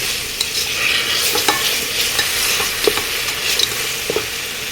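Ginger garlic paste sizzles in a pan for a cashew khichdi while a spoon stirs it, with continuous close frying hiss and repeated scraping strokes, no voices.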